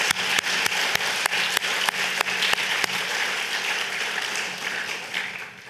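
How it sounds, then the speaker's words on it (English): An audience applauds past IWEC awardees at an evening ceremony in New York's Asia Society, a full wash of clapping with a few sharp nearby claps in the first seconds, slowly easing off. "may I have a big round of applause for all our past IWEC awardees"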